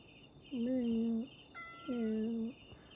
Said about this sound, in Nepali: त्यो म्याउ भनेछ